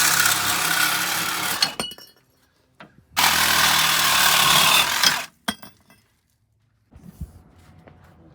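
A power cutting tool slicing off old Toyota 22R motor mounts on a Hilux, two loud sustained bursts of harsh cutting noise of a couple of seconds each, separated by short pauses and followed by faint clinks.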